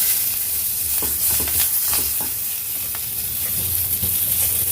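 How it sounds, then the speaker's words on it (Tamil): Curry leaves dropped into hot oil with toasted fennel seeds in a pan, giving a steady, close hiss and crackle of frying for a few seconds with faint stirring scrapes and no voices. "இதில் நம்ம கருவேப்பிலை சேர்த்துக்க போகிறோம்"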